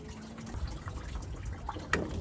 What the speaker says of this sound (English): I got the coolant and all that draining.